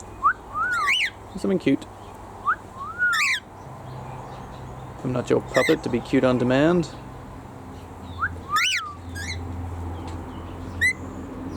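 A galah gives several short rising whistles and chirps, close by, in bursts between a person's speech.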